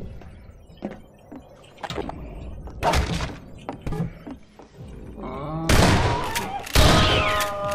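Shotgun blasts in the game Half-Life 2, several loud sharp booms spread irregularly among thuds and clatter, the heaviest bursts landing near the end.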